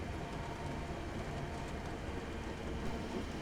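A Class 321 electric train in Train Simulator 2015 rolls downhill with brakes applied, giving a steady low rumble and rail noise with faint rhythmic clatter, continuous and moderately quiet.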